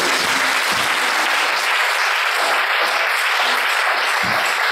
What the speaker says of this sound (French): Acclamez pour moi, acclame très très fort.